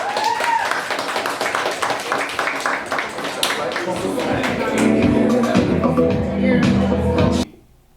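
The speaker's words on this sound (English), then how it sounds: "Clap us out." A live studio audience at a downtown Atlanta talk show claps steadily through a break, the loud clapping blending with a host's voice and rising music before cutting off abruptly near the end.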